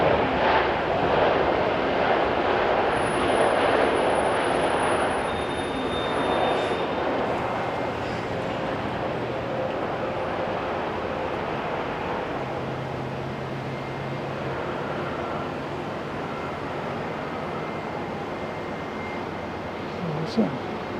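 A Boeing 787 Dreamliner at Auckland Airport rumbles with a broad jet engine roar, strongest at first and slowly fading, with someone talking over it.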